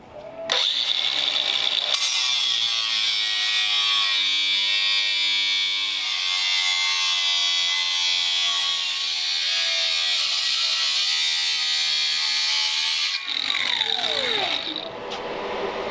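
A power tool runs continuously, shrinking an exhaust header pipe for a 1932 coupe's Oldsmobile Rocket engine; a loud, steady high whine and buzz lasts over ten seconds, starting and stopping abruptly.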